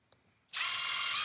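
A power drill drives screws and plates down through PVC sheet on a metal building roof, with a couple of faint clicks before a loud, steady whirring burst starts abruptly and runs continuously to the end.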